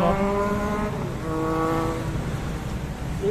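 A motorcycle engine revs up and down in rising and falling pitch, fairly loud and continuous with no talking.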